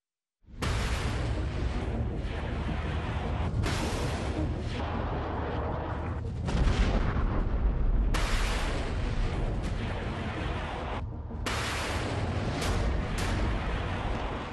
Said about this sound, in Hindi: इधर टारगेट लॉक हुआ, उधर मिसाइल एक्शन में आई।